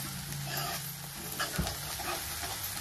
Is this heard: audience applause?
no